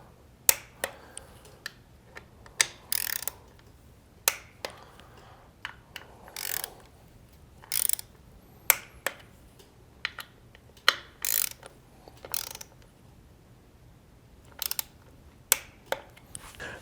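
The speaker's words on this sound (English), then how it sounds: "Now I will get my torque wrench and torque in the correct sequence." A torque wrench ratchets bolts down in sequence during a 10,000 mile service, making sharp, close clicking bursts at irregular intervals, with quiet gaps between strokes and no talk.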